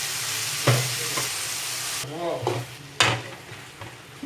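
Onions fry and are stirred in a pan while pirandai chutney rice is being made, giving a continuous sizzle broken by several loud, scraping stirs, one sharp clatter near the middle.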